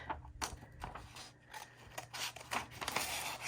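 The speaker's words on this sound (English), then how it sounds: "I am just going to cut right there. And with my scissors," Quiet, close crunching snips of scissors cutting through a flour sack tea towel, several cuts in an uneven rhythm.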